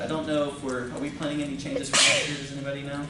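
One sharp sneeze bursts out near the end amid people talking at an academic convention meeting.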